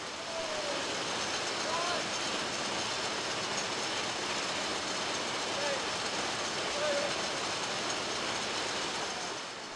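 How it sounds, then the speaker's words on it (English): A jute drawing frame runs with its coiler plates turning the sliver can forward and back, giving a steady, dense mechanical roar that stays even and loud throughout, with faint talk underneath. "Here we are observing the movement of the coiler plates, which in turn rotates the can once forward and then again"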